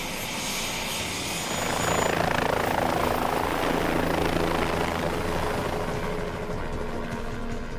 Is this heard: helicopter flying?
yes